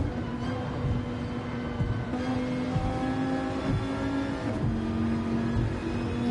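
GT2 race car engines drone steadily at Tokyo South in a racing video game, a continuous loud whine with slight pitch shifts as cars run close together in the slipstream.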